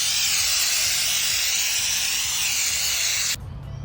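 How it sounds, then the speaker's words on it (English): A can of spray foam is held upside down and sprays in a loud continuous hiss, cutting off abruptly near the end. "In my learning about spray foam, I found out you're supposed to hold it this way,"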